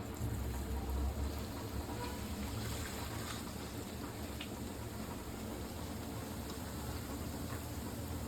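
Hot oil poured over pickle spices, fenugreek and asafoetida, for tempering sweet mango pickle, giving a steady low sizzle and crackle that runs evenly throughout without talk.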